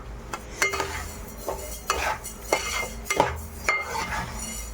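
Rice and lentils stirred and frying in a pan for sweet sunnundalu, with a spoon scraping and clinking against the metal in repeated strokes over a faint sizzle, close and moderately loud, no talking.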